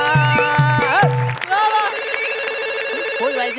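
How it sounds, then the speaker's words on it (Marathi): A telephone rings with a repeating electronic tone during a comedy sketch, followed by sustained musical tones. "फोन वाजला."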